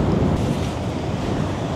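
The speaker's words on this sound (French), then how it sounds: "même s'il y a du vent aujourd'hui" Steady wind roaring outdoors on the shore of the Arcachon Bay at Andernos, a loud, continuous broadband rush with surf-like swells and no voices.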